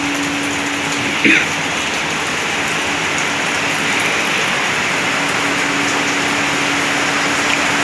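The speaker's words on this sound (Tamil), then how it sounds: "மழை பெய்யுது" Steady rain pours outside a small hotel balcony in Goa, a dense, even hiss that stays loud and close throughout, with a faint low hum underneath and one brief knock early on.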